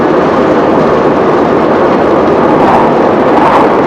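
A Bentley Special with a 4.9-litre Rolls Royce engine cruising in top gear just under 40 mph at about 2,000 rpm, giving a steady, loud, broad rumbling drone throughout with no talking.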